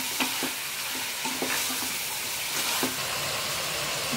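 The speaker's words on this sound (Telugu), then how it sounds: "ఈ చాప్ పీసెస్ అన్నీ ఇలా బాగా మనం కలిపి పెట్టుకోవాలి" Pieces of mutton chop sizzle steadily in a pan while a utensil stirs them, scraping the pan in several short knocks over the constant frying hiss, with no talking.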